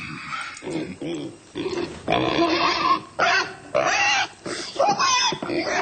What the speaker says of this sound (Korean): 돼지가 밥 따갖고 저러나 봅니다.